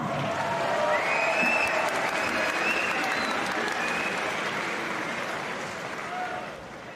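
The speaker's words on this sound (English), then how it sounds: "round of applause for both fighters" Crowd applause fills a boxing arena after a four-round UK vs USA bout, a dense, steady roar of clapping that holds for several seconds before easing slightly at the end.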